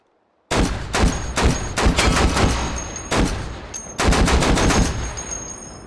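A 6P62 anti-materiel rifle firing 12.7x108mm AP incendiary rounds in a video game mod, a sudden start into several rapid bursts of loud, booming shots with brief gaps between volleys.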